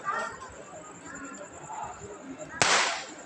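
A garlic firecracker (poondu vedi) goes off once near the end, a sudden sharp loud blast with a brief rumbling tail, after a stretch of background chatter and outdoor noise.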